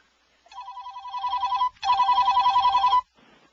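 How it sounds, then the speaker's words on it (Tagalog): A telephone rings loudly in two trilling bursts separated by a short gap, with no talk over it. "Teka, magtiriring pa yung telepono."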